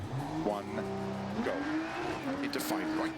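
A rear-wheel-drive BMW rally car prepared to rally specification, driven in the Dirt Rally 2.0 video game: a loud engine revs and climbs through rising pitch sweeps with gear changes, plus some tyre and gravel noise.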